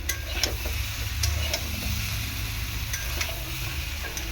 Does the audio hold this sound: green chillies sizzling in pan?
yes